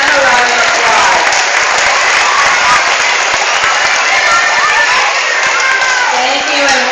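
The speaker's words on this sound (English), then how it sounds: "Please give them a round of applause." Loud, sustained applause and cheering from a crowd of children and adults at an elementary school spirit assembly, steady for the whole stretch with whoops rising above the clapping.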